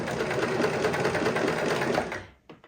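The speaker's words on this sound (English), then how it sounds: "I'm going to carefully sew down just inside that fold" A sewing machine stitching down a fabric hem runs with a fast, steady rhythmic whir for about two seconds, then slows and stops, with a faint click after.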